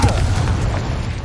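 A Confringo fire spell explodes in the Hogwarts Legacy video game, giving a single deep, booming blast that rumbles heavily in the low end through its brief length.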